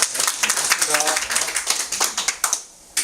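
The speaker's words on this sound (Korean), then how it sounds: "우리 이상 선생님 우리 박수로 환영해 주랍니다" A lecture audience claps to welcome a speaker, a short, uneven patter of hands under ongoing talk that thins out and stops near the end.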